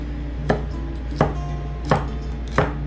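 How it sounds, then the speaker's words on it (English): A knife slices okra into coins on a cutting board, four crisp evenly spaced chops over a low background hum, no talking. "So I'm chopping my okra into essentially coins"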